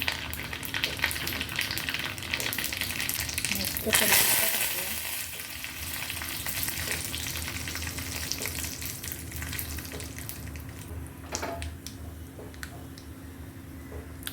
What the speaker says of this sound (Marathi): आता आपण याला तडका देऊया तेल टाकून घेऊया राई टाकूया जिरं टाकूया